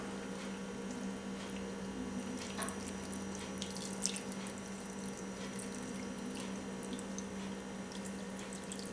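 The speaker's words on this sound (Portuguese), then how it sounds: "Eu vou colocar um pouco do líquido aqui, ó." Liquid poured over shredded pork leg meat while preparing a pork sandwich, a steady soft trickle and splash over a constant kitchen hum, with no talk.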